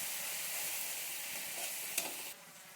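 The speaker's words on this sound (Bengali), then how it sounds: "এখন মশলাটা একটু ভালো করে কষিয়ে নিই।" Ground spice paste frying in oil in a pan for a Bengali cauliflower and fish dish, a steady loud sizzle with a brief stirring scrape near the end, no voices.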